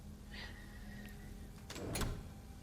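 A door in the Bendy and the Dark Revival video game slides or grinds open with a short, faint mechanical whoosh near the end, following a brief hiss, over a quiet steady hum.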